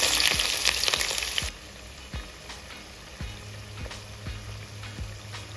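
Onion and green chilli pieces hit hot oil in a clay pot, a loud burst of sizzling at first that settles into a quieter, steady fry punctuated by sharp taps of a spoon stirring.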